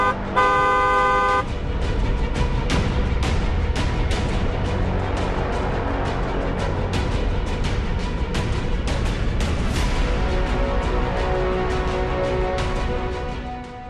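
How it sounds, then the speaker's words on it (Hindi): Car horns honking repeatedly in dense Delhi traffic, a steady run of short and sustained toots over constant engine rumble. "दूसरों को भी सावधान करने के लिए हॉर्न बजाएं"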